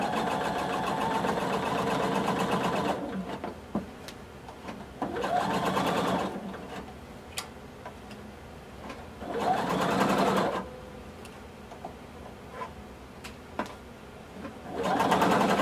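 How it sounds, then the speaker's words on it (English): A sewing machine stitches a 3/8-inch seam across the back of a blazer in three separate bursts of steady mechanical whirring, with quiet pauses and small clicks of handling between runs. "So across the back, we're going to sew using 3/8 of an inch seam allowance."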